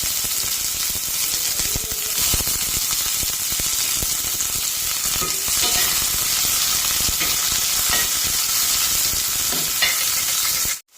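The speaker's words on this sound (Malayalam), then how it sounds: "അതിലേക്ക് അരിഞ്ഞു വെച്ചിരിക്കുന്ന സവാള ഇട്ട് കൊടുക്കാം." Chopped onion sizzles steadily in hot coconut oil with popped mustard seeds in a pan, a dense continuous frying hiss with occasional stirring scrapes, close and without talk.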